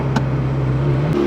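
A straight-piped Ferrari 360 race car with a Powercraft exhaust drones loudly at a steady idle, then the pitch drops abruptly near the end, close by with no talking.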